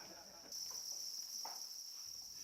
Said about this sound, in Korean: 태국의 대표적인 흉작지였던 이 지역은 지금 귀뚜라미를 사육하는 농장으로 샥 변신했습니다.